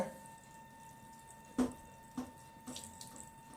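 Water runs from a tap in a quiet home, a faint, thin stream with a few louder splashes and drips breaking through near the middle and end.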